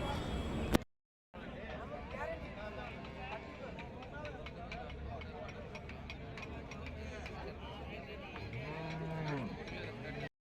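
Cattle at the Karungalpalayam cattle market in Erode, a steady busy crowd murmur with animal calls and low moos rising near the end, continuous throughout under general bustle.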